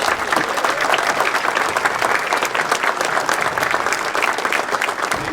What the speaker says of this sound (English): Could I have a round of applause for the Scouts?